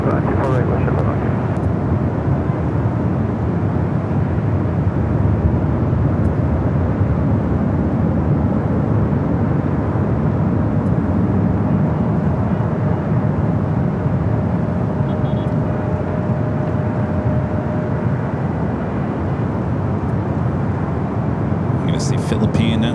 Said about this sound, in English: Turkish, the A350 up next for arrival